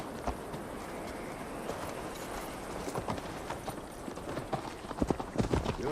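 Horse hooves clip-clop at a steady riding pace in the video game Assassin's Creed Valhalla, a continuous rhythmic trot over a bed of ambient game sound, with the hoofbeats growing slightly louder toward the end.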